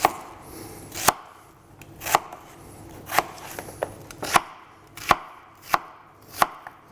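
A knife cutting an onion into thin wedges on a board, sharp isolated chops landing roughly once a second, close and clear with quiet kitchen room noise between strokes.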